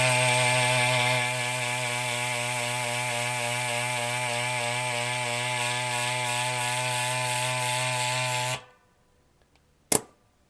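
A Flextail Tiny electric bike pump inflating a 28 mm tire whines with a steady, loud motor drone for about eight seconds, then cuts off abruptly, followed by a short sharp click.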